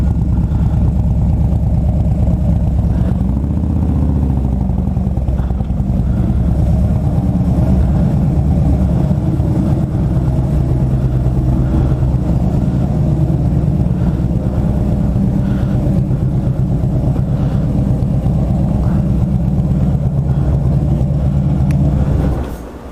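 A Harley-Davidson Road Glide motorcycle engine runs loudly and close, a deep steady rumbling drone that stays constant and then drops off at the very end.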